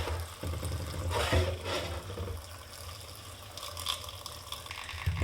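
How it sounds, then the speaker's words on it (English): Lukewarm water poured onto dry sphagnum moss brick pieces, a steady close splashing and trickling wash with a low hum underneath, swelling in bursts and easing off, no voices. "We'll pour some lukewarm water into that."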